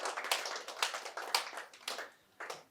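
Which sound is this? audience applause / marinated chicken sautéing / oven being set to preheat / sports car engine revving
audience applause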